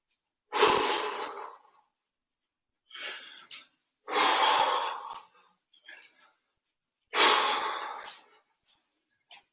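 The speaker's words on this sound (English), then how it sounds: "and we do 3 deep breaths." Three deep, loud breaths during an at-home daily refresh exercise session, each a long, forceful inhale-exhale burst separated by short pauses, close to the mic with faint movement between.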